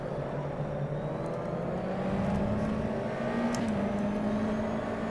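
A low-horsepower USF2000 race car engine in the rFactor 2 racing game at Homestead-Miami drones steadily at high revs, pitch slowly climbing through a gear with a brief shift dip, loud and continuous with no talk.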